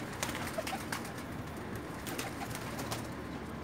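Pakistani pigeons coo softly in a low, repeated rhythm, with faint clicks and rustles scattered over the murmur.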